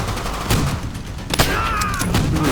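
Rapid gunfire from the World War II video game Call of Duty: World at War, a continuous crackle of shots with a few sharper bangs standing out, close and fairly loud throughout.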